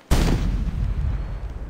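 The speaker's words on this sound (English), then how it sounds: "We're firing a cannon!" A cannon fires once in the Lost Lands 4 video game, one sharp loud boom followed by a heavy low rumble that decays over the next second and a half.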